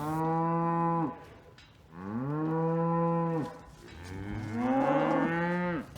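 Cattle on a family farm in Mississippi moo three times in a row, each call long, loud and close, with short quiet gaps between them and no talk.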